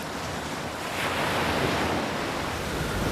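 Rough, stormy, deep sea surf roaring continuously, with waves surging and wind gusting over a dense wash of noise.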